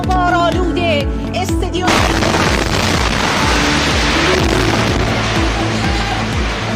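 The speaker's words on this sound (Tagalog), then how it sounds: "Sunod-sunod na pagsabog ang yumanig sa kanilang gusali." A rapid series of loud booming explosions shakes a building, rumbling on continuously, with a tonal sound at the start before the blasts take over.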